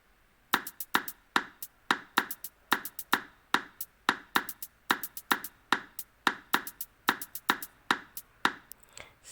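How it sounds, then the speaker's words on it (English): A programmed hi-hat pattern in an R&B/Afro-style beat built in Soundtrap, panned left, ticks in crisp, even, regular pairs at moderate volume with nothing else playing. "hi-hat pattern"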